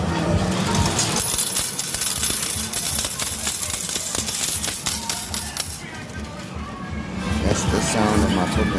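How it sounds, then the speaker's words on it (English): Tokens rattle out of a token dispenser in a dense, continuous metallic clatter of many small clinks that runs for several seconds and then thins out. A noisy indoor background sits under it. "That's the sound of my tokens coming out."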